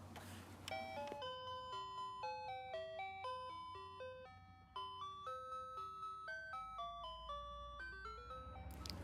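A musical Fisher-Price toy van plays a bright electronic chime melody of clear stepping notes, close and steady, with a short click at the start and a low rumble late in the tune.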